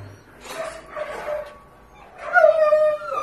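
A shy medium-sized shelter dog gives soft whimpers and a couple of higher yips during a vet-style check, close by, in short bursts with a louder whine near the end.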